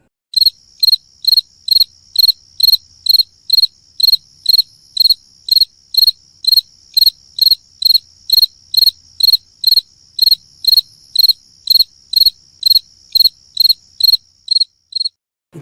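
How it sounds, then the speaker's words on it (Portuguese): A cricket chirps alone in steady, evenly spaced bursts, each a sharp high trill, repeating about twice per second with silence between. "Então, crianças, que som foi esse? Vocês conhecem? Já ouviram? De um grilo?"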